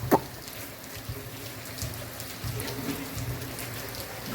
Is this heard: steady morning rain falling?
yes